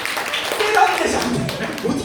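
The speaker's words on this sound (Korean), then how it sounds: "박수 한번 주세요." An audience claps for someone who has just answered a quiz question correctly, a brief burst of clapping mixed with a speaking voice.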